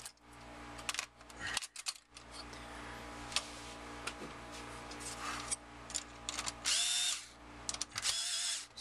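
A small electric screwdriver tightens screws on a video game console board, giving close, quiet bursts of whirring that start and stop several times alongside faint handling clicks, with a louder high-pitched whine near the end.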